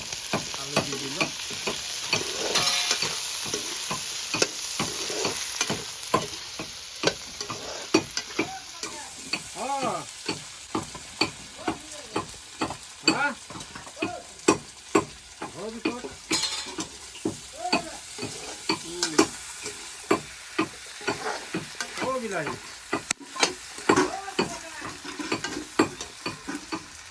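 Potato pieces sizzling in hot oil in a pan while a utensil stirs and scrapes them in a repeated rhythm, close and fairly loud, with no talk.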